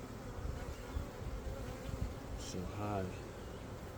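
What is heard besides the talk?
honeybees buzzing around a hive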